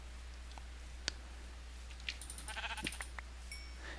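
Minecraft sheep in a crowded spawn area give a few short, faint bleats over a steady low hum, mixed with small clicks and brief tonal game blips.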